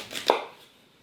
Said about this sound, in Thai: เสร็จแล้วให้เราผ่าครึ่งครับ